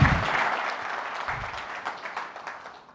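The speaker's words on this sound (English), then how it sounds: "Let's all give Simon a round of applause" Conference audience at a New York tech event applauding, a full burst of clapping that starts loud and slowly thins out toward the end.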